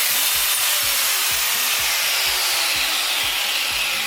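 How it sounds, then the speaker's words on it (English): An angle grinder cutting during a budget kitchen makeover, a loud continuous high whine with a rhythmic low chattering pulse beneath it, close and steady throughout. "I have never used a grinder before"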